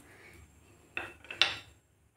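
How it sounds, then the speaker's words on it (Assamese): Quick stirring of Assamese palm fruit rasbora batter in a pan, two or three brief scraping strokes of a utensil against the pan, close and fairly quiet, with no talk. "পটককৈ লৰাই দিব লাগিব"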